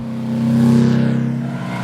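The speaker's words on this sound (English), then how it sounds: "it is the way this engine feels and the way that it sounds that makes this car so exciting" A Porsche engine revs hard, a loud, steady, high-pitched mechanical drone that swells and then eases slightly with a fluttering pulse, heard close up with no talking.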